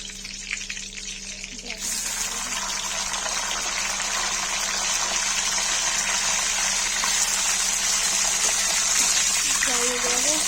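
Eggplant frying in hot oil gives off a loud, steady, dense sizzle that swells after a quieter start and holds without pause, with a voice briefly audible near the end.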